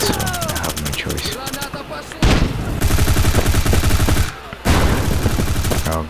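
Gunfire in the Bullet Force shooter video game: rapid automatic bursts of shots, loud and continuous, broken by short gaps.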